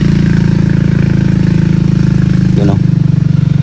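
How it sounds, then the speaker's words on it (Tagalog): Motorcycle passing on a rural road near farm fields, a loud steady engine drone that swells and then eases, with voices talking over it. "May motor na dumaan tol."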